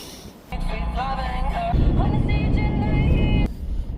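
Road traffic in a jam on the way to West Edmonton Mall, with a steady engine and road rumble heard from inside a car and tonal whines rising and falling over it.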